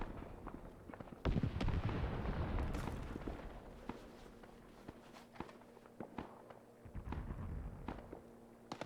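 Gunfire at a military simulation operation outdoors: a few sharp cracks and pops scattered over the span, fairly distant, amid rustling, footsteps and a low steady hum.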